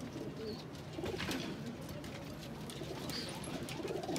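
Ferozpuri pigeons cooing softly in a loft, a low, faint murmur of calls with occasional higher chirps over a steady background hum.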